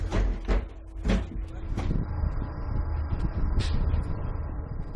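The door of a freefall lifeboat swings shut and is secured, giving a few solid clunks and latch knocks inside the enclosed hull over a low steady hum.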